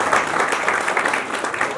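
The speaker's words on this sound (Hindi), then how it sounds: "तालियों की गड़गड़ाहट होनी चाहिए" A crowd at an award ceremony for social workers applauds, dense clapping that stays steady and fairly loud for the whole moment.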